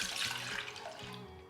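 White distilled vinegar and water pouring into a pan, a steady continuous splash and trickle of liquid running for the whole moment, close and fairly soft.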